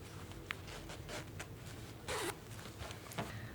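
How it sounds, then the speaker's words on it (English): A dress zipper is drawn open at a sewing table, quiet scratchy ticks and a short louder zip run near the middle, heard close with soft handling noise around it. "I can open my zipper up."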